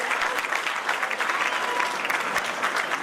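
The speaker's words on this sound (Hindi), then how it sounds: "आप अपनी मोहब्बत का इजहार करेंगे, तालियों की गूंज में रुखसत करेंगे" Dense audience applause at an event in Karachi, a steady wash of many hands clapping, fairly loud and sustained throughout with a faint voice or two mixed in.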